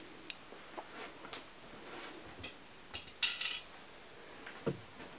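Small metal screws and a hardware assembly from a ZEQ25 telescope mount are set down on a work surface, making light, scattered clinks and taps over a quiet background.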